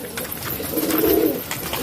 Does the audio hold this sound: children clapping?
no